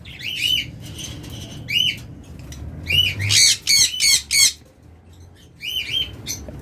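Pet birds for sale, such as lovebirds, budgerigars, sun conures and cockatiels, squawk loudly in caged bursts, with repeated harsh calls clustered together and wing flutters between them, close by.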